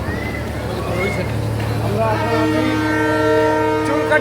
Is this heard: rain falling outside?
no